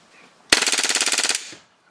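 A full-auto BBU blaster fires a single rapid burst of roughly fifteen shots in a tight, even rattle lasting about a second, loud and close, ending in a brief mechanical tail.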